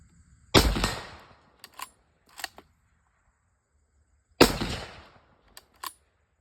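A Remington 1903A3 bolt-action rifle fires two loud shots from its magazine, several seconds apart, each blast decaying into a ringing tail and followed by quick clicks of the bolt being cycled.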